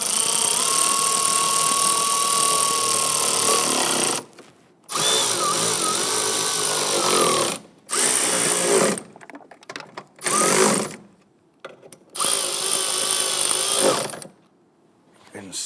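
A power tool tightens valve cover bolts on a 2011-2021 Jeep Grand Cherokee 3.6L V6, loud whirring bursts repeated several times with short pauses between them, close by in a garage.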